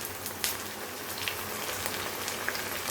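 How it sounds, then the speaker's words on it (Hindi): Onions sizzle steadily in a hot pan with ginger garlic paste, giving a dense, even crackle like light rain that runs without pause and has no talk over it. "प्याज हल्के से फ्राई कर लिए हैं हमने। अब मैं इसके अंदर ऐड करूँगी अदरक लहसुन का पेस्ट"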